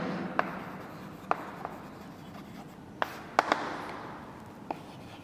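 Chalk or marker tapping and scratching on a classroom board during a 2×2 matrix lesson, a handful of sharp isolated clicks spread over quiet room tone with no voices.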